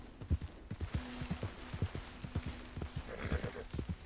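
A video game horse, one of the rare horses, walks along with quiet, evenly spaced hoof clip-clops, a soft steady rhythm with faint background ambience.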